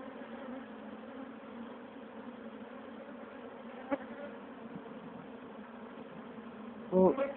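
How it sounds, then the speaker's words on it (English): Bees hover around an open beehive, making a faint, steady buzzing drone throughout, with a brief tap near the middle and a short louder bump or voice near the end. "There's a load of bees landing on the phone."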